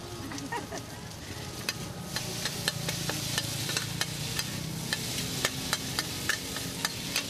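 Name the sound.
stirring pad thai in a wok with wok turner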